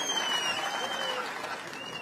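Applause from a crowd at an outdoor political campaign rally in Sangola, a steady wash of clapping held at an even level throughout, fairly close and continuous with no voices rising above it.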